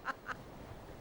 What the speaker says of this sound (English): the funny little duck who fought with the deck chair